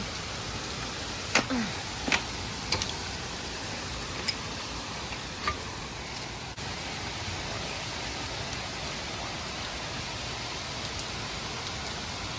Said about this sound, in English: It is pouring, raining outside.